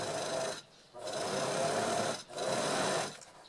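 A sewing machine running a topstitch seam on a fabric divided pouch, three close bursts of steady rapid whirring stitching separated by short pauses.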